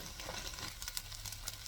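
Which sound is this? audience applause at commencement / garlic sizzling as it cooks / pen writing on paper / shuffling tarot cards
garlic sizzling as it cooks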